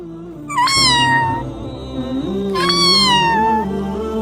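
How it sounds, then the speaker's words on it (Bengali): A small, weak cat meows twice, each a clear rising-then-falling cry close by, with a steady low hum underneath. "কোথা থেকে এমন মেউ মেউ শব্দ আসছে বাড়িতে তো কোথাও বিড়াল নেই"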